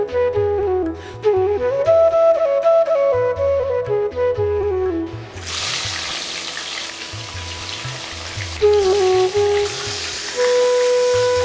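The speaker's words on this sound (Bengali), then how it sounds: "তেল গরম হলে মাছে নুন মাখিয়ে ভেজে তুলব হালকা" Salted fish hits hot mustard oil in a kadai partway through, setting off a loud, steady sizzle and spatter. Music plays softly beforehand and continues under the frying.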